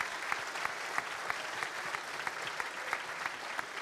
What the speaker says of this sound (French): Ils ont été très sages. On peut les applaudir,